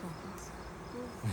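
Bees buzz around spilled honey, a close, continuous hum of wings droning steadily through the brief moment with no voices.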